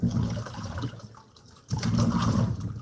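Tap water runs steadily while fresh thyme is rinsed for a potato gratin, a close, continuous splashing flow that dips briefly in the middle before returning at full strength, with no voices.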